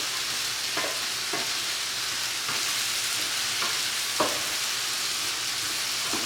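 Potatoes browning beside pork chops in a pan give a soft, continuous frying hiss, with a few faint utensil scrapes and taps scattered through it.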